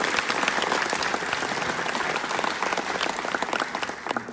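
An audience at a panel of World War II veterans applauds a 97-year-old veteran: a dense, continuous wash of many hands clapping at once, loud and sustained throughout, with no speech over it.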